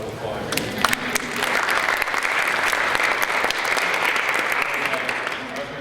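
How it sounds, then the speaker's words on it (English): A lecture audience breaks into loud, sustained applause with a few sharper claps standing out, holding steady before easing slightly at the end. "Let's give Victoria a round of applause."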